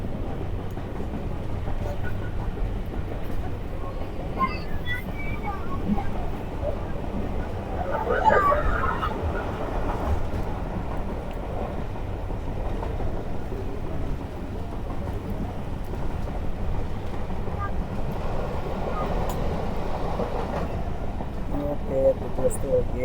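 Hazara Express passenger train rolling steadily along the rails with a continuous low rumble and rattle, heard from inside a carriage with faint chatter from passengers in the background.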